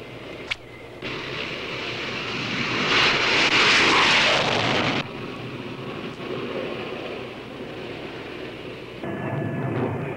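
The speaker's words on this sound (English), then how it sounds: "After refueling, the planes move off in close formation into North Vietnam." Military planes fly in close formation over North Vietnam during the Vietnam War, a continuous engine drone that swells louder in the middle and holds steady with no talking.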